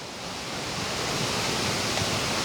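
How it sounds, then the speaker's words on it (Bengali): A waterfall in Bangladesh sends a steady, broad rush of falling water, close and continuous, with no voices over it. "Wow, amazing waterfalls."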